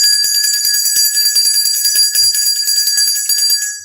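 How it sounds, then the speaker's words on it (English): A ritual bell is struck and left ringing, a bright sustained metallic tone with shimmering overtones that holds steady close to the microphone for several seconds before beginning to fade. "and I'll ring the bell."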